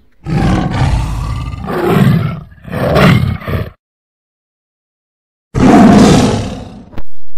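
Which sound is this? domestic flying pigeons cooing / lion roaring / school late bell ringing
lion roaring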